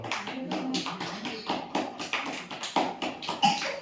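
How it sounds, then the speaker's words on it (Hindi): Children and a teacher in a classroom clap hands together in a steady, even rhythm, a run of crisp close claps repeating for several seconds. "ताली बजाओ"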